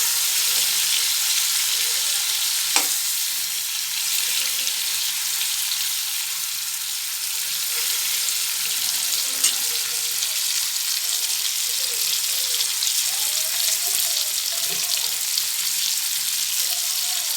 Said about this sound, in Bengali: ডিমগুলো এবার ভেজে নিচ্ছি,